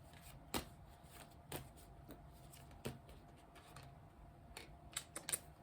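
Tarot cards being shuffled and drawn by hand, heard as a quiet, irregular run of soft papery riffles and sharp snaps, with a few crisper flicks bunched near the end.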